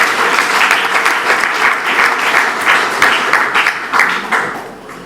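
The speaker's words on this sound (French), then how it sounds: "Applaudissez pour vous-même." A crowd applauds at the first congress of the RDT political party, loud, dense clapping with distinct rhythmic bursts that carries on for several seconds before easing off at the end.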